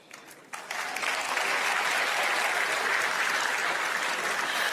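Applause at the unveiling of the Dakar 2026 Youth Olympic Games mascot, rising suddenly after a brief quieter start into a steady, full wash of clapping from a large audience.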